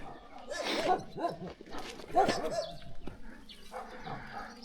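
Dogs guarding houses in the village of Gorodets near Bykhov give two loud bursts of barking at mid-distance, with quieter outdoor sounds and some voices between them.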